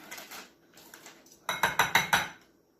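A spoon clinks against a bowl while stirring tahini into donair sauce, first a few soft scrapes, then five sharper, rhythmic metallic taps close up.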